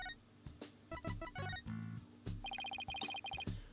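A phone in Apollo Justice: Ace Attorney rings with a rapid electronic trill in repeated bursts, set against busy, bright game sounds and musical stabs.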